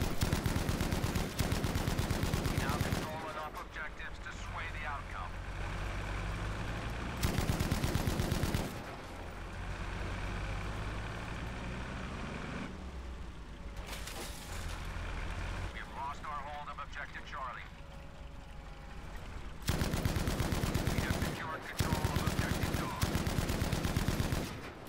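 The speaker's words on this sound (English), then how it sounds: "Right, 30 caliber machine gun" An air-cooled Browning .30 caliber machine gun firing in Battlefield V, loud sustained automatic bursts broken by short pauses, with engine and aircraft rumble between volleys.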